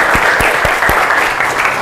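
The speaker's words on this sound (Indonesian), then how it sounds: "Tepuk tangan dulu, nak." Students in a classroom clap together in a broad, steady wash of applause, with a few sharper claps standing out, continuous and close.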